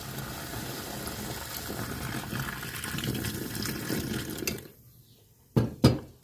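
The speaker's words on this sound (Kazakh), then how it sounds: "Оның үстінен қайнаған ыстық суымызды құямыз." Boiling hot water poured down a sink drain onto a fizzing cleaning mixture, a steady rushing pour that stops abruptly, followed by two short sharp knocks.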